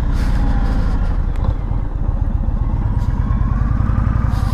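A 2022 Indian Chief motorcycle with the 111 engine rumbles steadily while riding, a loud, close, continuous low engine drone with wind noise and no talk.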